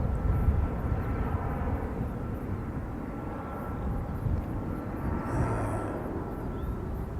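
A Jetstar airliner makes a low approach overhead, its engines a steady broad roar that swells slightly near the end and carries on throughout.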